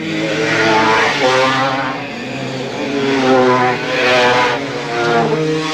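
Racing motorbikes at the 1984 King of the Hunter race climb uphill into a big left-hand bend, their engines roaring close and loud, rising and falling as several machines pass in succession.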